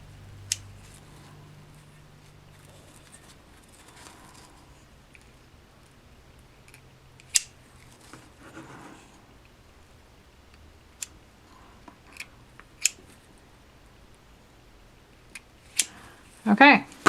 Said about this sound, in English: And then I'm going to cut these ends off.